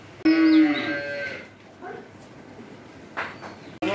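A Jersey dairy cow on a farm in Bangladesh lets out a loud, close moo, followed by a softer lowing call and a short burst of farmyard noise.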